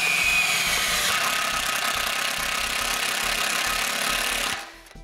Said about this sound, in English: we'll simply go ahead and drill them